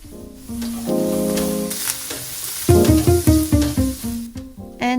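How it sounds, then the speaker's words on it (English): Minced ginger, garlic and onion sizzle in a pan over low heat, a steady frying hiss with bursts of stirring and scraping clatter close by, alone without talk. "On low heat, I add minced ginger, minced garlic,"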